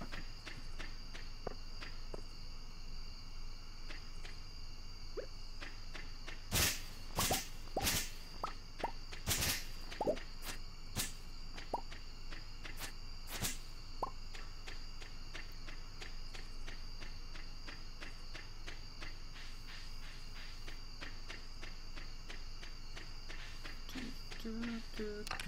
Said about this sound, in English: I guess that could be crickets. It sounds like cicadas though.